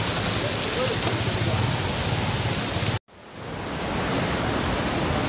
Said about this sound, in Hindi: झरना आ रहा है